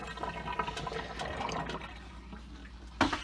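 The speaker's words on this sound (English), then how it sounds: "then you pour that water off" Hot water poured out of a pot while making maple syrup, a continuous splashing gush close by that tapers off, ending with a sharp knock.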